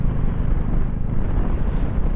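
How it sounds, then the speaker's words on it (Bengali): Strong wind buffets a motorbike on a winter mountain ride from Narkanda to Sangla toward Spiti, a loud, continuous low rumbling roar with no breaks for the full stretch. "হাওয়াটা মারাত্মক লেভেল চলছে, বাইককে হেলিয়ে দিচ্ছে পুরো"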